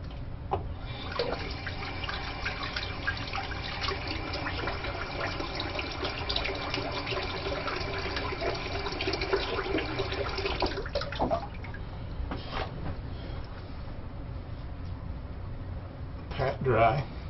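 Cool tap water running steadily into a sink for rinsing after a shave, a continuous soft splashing flow with small changes in the stream.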